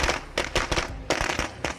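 Firecrackers go off in State of Decay 2, a quick string of sharp, crackling pops bursting in uneven clusters at moderate volume, with no voices over them.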